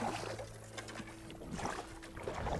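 Fishing boat trolling for bass on its big outboard motor, a steady low engine drone with water wash running throughout, fairly close.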